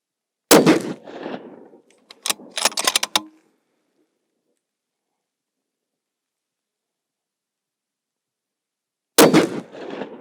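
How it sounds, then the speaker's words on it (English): Two sharp rifle shots with factory ammunition fired at a target during zeroing, each a loud crack followed by a quick echo, then a long silence before another loud report near the end. "I'm gonna go ahead and take 2 shots at that bottom tip of the diamond as precisely as possible"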